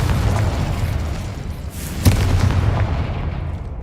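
A Confringo explosion spell goes off in the Hogwarts Legacy video game, a sharp booming burst near the middle over a steady rumbling game background, with no talk.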